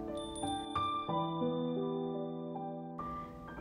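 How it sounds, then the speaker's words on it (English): Small hand bells give a tender, sustained ring, with several bright struck tones sounding and overlapping across the few seconds, each note decaying slowly with no voices. "the bells in his hand let out a tender ring."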